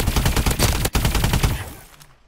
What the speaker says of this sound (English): It's the Repulsor, and it's one of the new guns that came out.